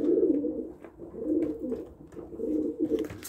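Pigeons coo in low, repeated rolling phrases, close by in a loft, with a few soft rustles between calls.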